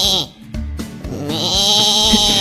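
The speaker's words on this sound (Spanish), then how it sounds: "Ese es el sonido de la oveja." A sheep gives a drawn-out, wavering bleat, loud and close. A few short vocal sounds come just before it, with no one speaking over the call.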